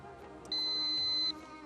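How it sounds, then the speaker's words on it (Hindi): A quiz show buzzer pressed by a contestant team during a televised quiz competition, one steady electronic tone held for just under a second over a low studio background. "जी, टीम समझदार ने बजर दबा दिया है।"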